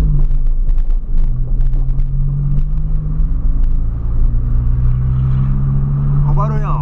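A Volkswagen Gol G6 engine gives off a loud, deep, steady rumble at close range, idling continuously while someone talks over it.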